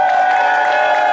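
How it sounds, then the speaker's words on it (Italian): Audience at an outdoor dance hall with an orchestra clapping and cheering in a dense, steady burst of applause, loud and close throughout the short moment. "Città, vai, forte forte l'applauso!"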